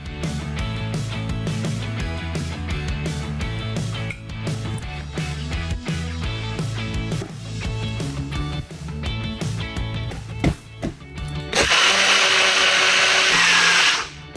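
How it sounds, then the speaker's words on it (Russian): A blender whips a berry semifreddo mixture after milk is added. Its motor whirs loudly and steadily, then ends in a bright, hissing high-speed burst. "Отлично, осталось добавить молоко и взбить."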